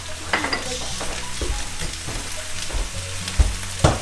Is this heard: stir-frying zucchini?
yes